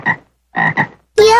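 A frog croaks in three short, close, loud bursts, the last one longer and more tonal, with silent gaps between and no talk.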